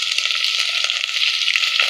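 Green beans dropped into a hot pan for rava uppittu give a steady, bright sizzle, loud and close and continuous throughout, with no talking.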